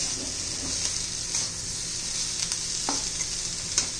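Bitter gourd stirred with coriander and jaggery in a pan, a steady sizzle with a few soft scrapes of the spoon, heard close and alone without talk.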